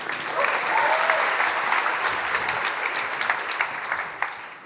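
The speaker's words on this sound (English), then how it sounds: "that probably deserves a clap in and of itself" Applause from a conference audience at a business talk, a dense, steady wash of many hands clapping throughout, fairly loud and close, with no speech over it.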